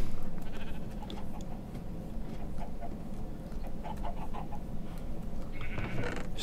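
Sheep bleat in the Minecraft video game on a farm with chickens nearby, giving soft, scattered bleats over a dense, steady background hum.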